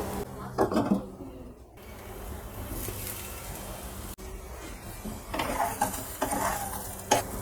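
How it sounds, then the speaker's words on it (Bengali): Fish roe fritters fry in a pan with a close, crackling sizzle broken by loud scraping and clattering of a spatula turning them, a brief pause midway, then more frying and clinks. "এইভাবে উল্টে উল্টে দিতে হবে, তাহলে পুরোটা ভালো করে ভাজা হয়ে যাবে।"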